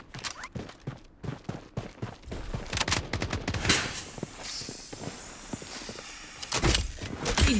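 Gunfire in the Blood Strike battle royale shooter, with a rapid string of sharp, loud shots and bursts, short pauses between volleys, and one heavier cluster of shots near the end. There is no talking.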